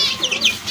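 Rooster clucking in a backyard poultry pen among fighting roosters, a few short close calls over a brief moment with no voices.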